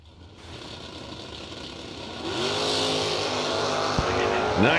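Drag racing cars launch at a strip event, one a Chevrolet Nova pulling a wheel stand, their engines rising to a loud, roaring rev with climbing engine tones, under an announcer talking over a PA.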